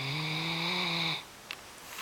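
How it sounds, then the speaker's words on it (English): A Great Dane that is awake snores, a steady, droning, nasal rumble lasting about a second, then stops, leaving a quiet room with a faint click. "Are you awake and still snoring?"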